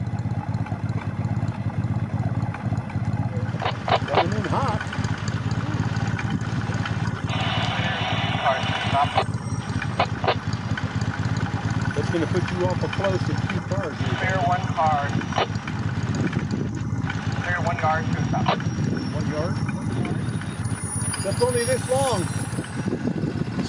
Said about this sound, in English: That motor sound you hear in the background is the speeder I was just riding.